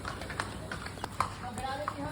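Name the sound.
donkey and horse hooves clip-clopping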